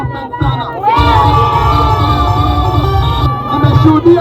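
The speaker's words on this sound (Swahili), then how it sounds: "Timu ya Mweni imekuwa bingwa, tuwapigie makofi sana." A loud outdoor crowd cheers and shouts for the champion team at a youth football cup final, with sustained roaring, whoops and children's voices.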